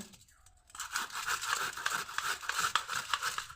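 A medium-sized potato rubbed against a hand grater, giving steady rasping scrapes in a quick, close, fairly loud back-and-forth rhythm after a brief quiet start.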